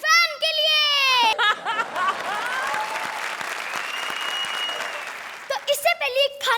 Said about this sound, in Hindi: तो जोरदार तालियां हो जाए सलमान खान के फैन के लिए।